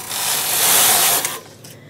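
The carriage of a Brother double bed knitting machine slides across the needle bed in one close, loud whooshing pass with a mechanical rattle, then ends with a few small clicks.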